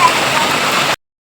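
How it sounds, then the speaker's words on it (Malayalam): Steady rain pours down during a light thunderstorm, a dense, even hiss of falling water heard close and fairly loud for under a second before cutting off abruptly. "മഴ പെയ്യുന്നുണ്ട്."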